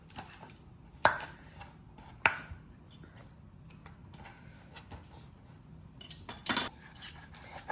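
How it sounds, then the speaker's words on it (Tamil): Snake gourd cut with a knife, with a few sharp clacks as the blade hits the board and scattered lighter knocks between them, close and clear in a quiet kitchen. "பைத்தக்காய் வெட்டுறோம் முதல்ல"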